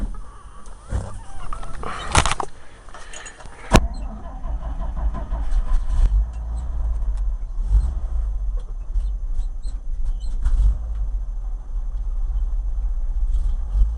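A 1965 International R-185 truck cranks over cold on choke, catches with a few sharp bursts, then settles into a low, uneven rumbling idle close by.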